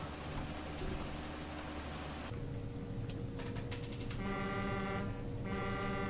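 A combine harvester sounds its horn in Farming Simulator 13 during a rapeseed harvest: a buzzy, sustained tone comes in near the end over steady engine and hissing noise.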